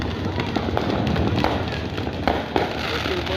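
Dense New Year fireworks crackle and pop continuously, loud and close, with scattered sharper bangs over a constant rumbling wash of bursts.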